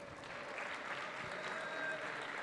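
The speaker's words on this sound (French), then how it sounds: "Un tonnerre d'applaudissements pour lui s'il vous plaît." Applause for a player at a FIFA 15 tournament final, a steady wash of clapping from an audience, fairly faint and continuous throughout.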